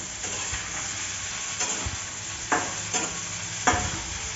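Cauliflower curry cooking in a pan, with a steady sizzling hiss throughout and a few soft scraping stirs of a utensil partway through.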